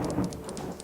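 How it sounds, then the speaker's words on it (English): A lightning strike in the WorldBox god-simulation game rumbles as thunder over steady rain, with crackling bursts repeating close and loud and no voices present. "But it can all be burned down with a simple strike of lightning."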